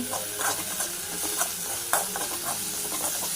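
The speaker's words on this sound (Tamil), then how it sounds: "வெங்காயம் தக்காளி இஞ்சி போட்டு பேஸ்ட் எல்லாத்தையுமே நான் போட்டு வதக்கிட்டேன்" Onion, tomato and ginger paste sautéed in a pan for mutton curry, with continuous close sizzling under repeated scraping, clattering strokes of a spoon stirring, and no talking.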